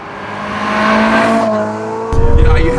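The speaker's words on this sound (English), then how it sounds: "If I'm going out and I'm really wanting to, able to push the engine, the Ferrari sounds amazing." A Ferrari 458 engine revs high and loud, its tone climbing and holding before a harsher surge of engine and road noise near the end.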